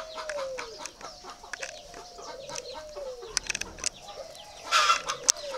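A family of doves in a breeding cage, with soft, repeated cooing and chirping calls close by, plus light rustling and a brief louder flutter near the end.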